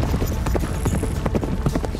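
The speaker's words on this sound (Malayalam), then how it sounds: "ഈ കുതിരകൾ എവിടെന്നാ വരുന്നത്?" Hooves of horses in an animated centaur magician series clatter in a rapid, uneven clip-clop, close and continuous across a couple of seconds over a busy background.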